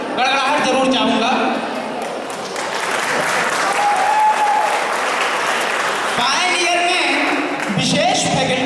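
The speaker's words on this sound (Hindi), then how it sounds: "आपकी तालियों की गड़गड़ाहट जरूर चाहूँगा" Thunderous audience applause fills a hall at the UDBHAV 2013 student event. Dense, continuous clapping runs throughout at a loud, steady level, with voices and cheers mixed in and a brief dip near the end.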